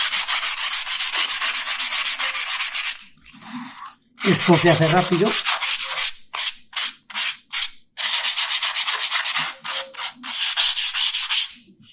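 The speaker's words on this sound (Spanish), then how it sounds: "Aquí tengo un trozo de lija del 60 y a repasar." Harsh rhythmic strokes of 60-grit sandpaper on carved stone rasp back and forth, loud and close, broken by short pauses and a brief spoken remark.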